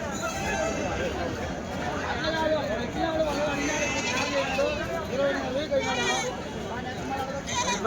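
Goats, including red billy goats, bleat repeatedly amid a busy crowd of voices at the weekly sheep and goat market in Kadiri, with wavering cries rising over the chatter.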